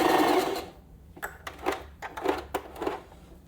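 A domestic sewing machine stitches fabric in short bursts of rapid needle clatter separated by pauses, close and moderately quiet, following a louder rush of noise at the start.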